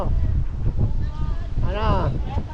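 Strong wind on a beach at Puerto Galera's White Beach buffets the microphone with low rumbling gusts, while voices talk over it in the foreground.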